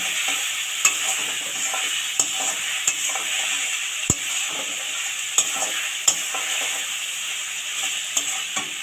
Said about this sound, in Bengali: পেঁয়াজটা ভালো করে লাল লাল করে ভেজে নিতে হবে।